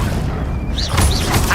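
A booming Confringo fire spell explosion in Hogwarts Legacy lands as a dense, loud low-frequency blast with a crackling burst, swelling briefly about a second in amid game effects.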